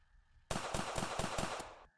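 Rapid automatic gunfire from a zombie-shooting video game, a loud burst of about six or seven sharp shots in quick rhythm lasting over a second, with no talking.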